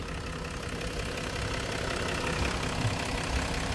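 A 2015 Range Rover Autobiography's engine idles with a steady, even hum heard close up, holding a constant level throughout with no voices.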